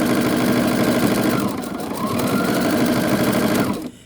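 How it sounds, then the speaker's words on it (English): A sewing machine stitches fabric scraps together from one end to the other, its fast, even motor whir loud and close with a brief dip midway before stopping abruptly. "I'm just going to sew from one end to the other"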